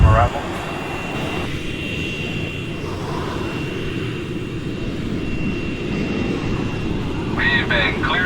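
A jet airliner taking off, heard from inside the cabin as a steady, loud engine roar that swells slightly toward the end, with a faint voice briefly over it.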